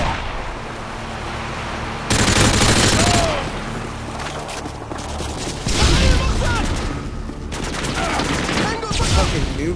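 Gunfire in the video game Call of Duty: Modern Warfare 2 multiplayer, loud bursts of rapid automatic shots in several volleys over a constant battle din, with fainter talk in the background.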